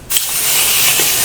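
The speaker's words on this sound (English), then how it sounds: "we're just going to spray" Spray adhesive from an aerosol can is misted onto quilt wadding in one loud, close, continuous hiss that begins abruptly and holds steady.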